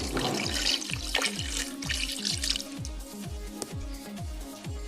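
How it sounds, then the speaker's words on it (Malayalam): Two glasses of water pour and splash into a cooking pot of chicken with bubbling, gurgling sounds, accompanied by a repeating low mechanical thump in the background. "ഇനി നമുക്ക് രണ്ട് ഗ്ലാസ് വെള്ളം ഒഴിക്കാം"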